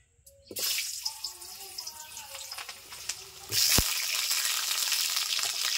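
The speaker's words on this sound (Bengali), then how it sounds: "তেল গরম করে নিয়েছি, আলু দিয়ে দিচ্ছি কড়াইতে।" Potatoes go into hot oil in a wok, starting with a few soft knocks before a loud rush of sizzling hiss that swells sharply midway and stays steady to the end.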